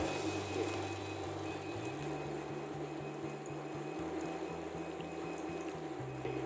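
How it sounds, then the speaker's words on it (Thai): Water from a repaired 6-volt pump flows steadily at close range, a continuous wash of liquid over a low, slightly wavering motor hum, with no talking. "น้ำไหลนะครับ"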